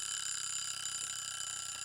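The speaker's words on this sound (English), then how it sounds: "there's the timer" A timer alarm goes off at the end of a session, a steady high-pitched electronic ringing held at an even level with no talk over it.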